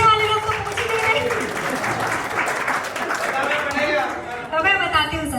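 Applause from an audience at a Republic Day poetry gathering mixed with crowd chatter and voices, fairly loud and sustained, with someone talking over it.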